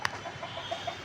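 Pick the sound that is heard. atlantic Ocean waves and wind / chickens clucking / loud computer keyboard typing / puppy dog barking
chickens clucking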